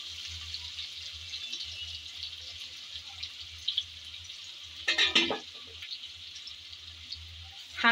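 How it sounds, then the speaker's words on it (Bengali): Chopped onion frying in hot oil left from frying shrimp, a steady close sizzle with a brief louder stirring burst midway and a low background hum, no talking. "সেই গরম তেলে দিয়ে দিচ্ছি আমি কিছুটা পরিমাণ পেঁয়াজ কুচি।"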